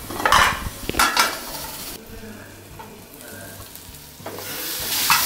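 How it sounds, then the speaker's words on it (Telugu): Mint leaves fry dry in a pan for mint chutney, a steady sizzle with bursts of scraping and stirring at the start and again near the end, close and fairly loud, no voices. "పుదీనా చక్కగా వేగిపోయింది"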